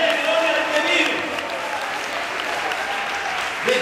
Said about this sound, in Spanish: Le quiere dar esas palmas